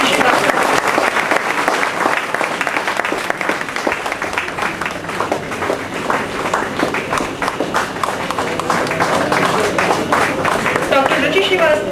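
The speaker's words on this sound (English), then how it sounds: "Give a big round of applause for Dr. Ruchi Srivastava" A dense round of audience applause rolls on steadily for the whole stretch, loud and close, with some voices and movement mixed in.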